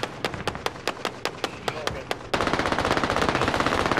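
Rapid automatic gunfire in Call of Duty: Modern Warfare, a sharp evenly spaced burst of shots that gives way to a denser, faster stream of fire, loud and close, with a voice talking over it.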